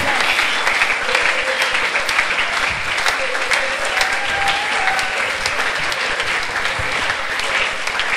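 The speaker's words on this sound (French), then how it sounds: "Clap for Jesus." A church congregation clapping hands for Jesus in steady, dense applause that fills the room throughout, loud and continuous with no pauses.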